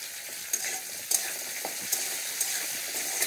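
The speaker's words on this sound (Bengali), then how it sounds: "গাজর কটা একটু ভাজা হয়ে গেছে, তো ক্যাপসিকামগুলো এর সঙ্গে দিয়ে দিচ্ছি।" Carrots and capsicum frying in a pan for vegetable fried rice, a quiet continuous sizzle broken by a few sharp scraping stirs at irregular moments.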